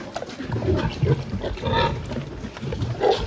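Sows on a farm during vaccination, with intermittent grunts and squeals from nearby pigs in short irregular bursts over barn background noise.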